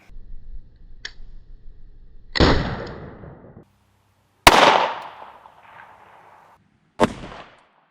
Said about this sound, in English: So let's go ahead and take the shot.